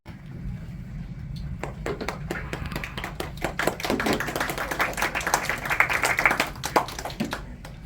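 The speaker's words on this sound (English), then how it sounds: "Give a round of applause." Scattered applause from a small audience at a school play about the American Revolution, individual hand claps distinct and irregular over a low murmur of room noise and chatter, continuing steadily throughout.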